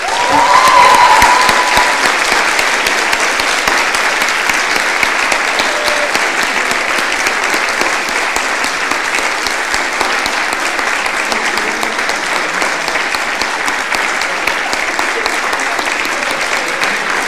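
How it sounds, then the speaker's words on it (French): Sustained audience applause at an awards ceremony, a dense even roar of many hands clapping that holds steady for the whole stretch, loudest near the start, with no talk over it. "C'est réglé sous vos applaudissements pour Jeanne Vaillant."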